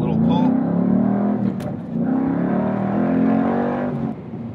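A Ford Mustang Boss 302 track car pulls under acceleration, a steady loud engine drone rising in pitch, with a voice talking over it throughout.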